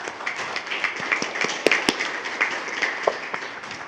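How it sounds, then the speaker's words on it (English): Scattered applause from a school board meeting audience honouring students, thin and fairly distant with a few sharper individual claps standing out, no speech. "if you join me in a round of applause for all those students"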